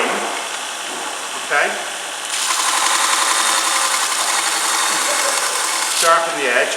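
A Robert Sorby ProEdge sharpener whirs steadily as a tool edge is pressed to it, with a continuous high grinding hiss and brief shifts as contact changes; someone speaks briefly over it.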